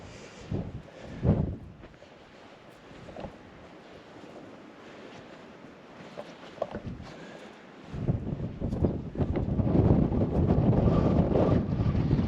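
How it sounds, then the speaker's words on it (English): Wind at Ros Castle, Northumberland, near the sea buffets the microphone in gusts, rumbling low and growing into a strong, steady roar toward the end. "It's windy."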